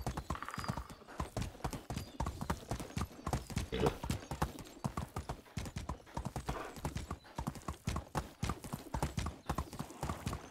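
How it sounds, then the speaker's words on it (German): Horse hooves clip-clop in a fast, steady rhythm while riding in the video game Medieval Dynasty, a close, continuous gait with a brief whinny near the start and faint speech over it. "wir sind mit dem Pferd echt schneller unterwegs"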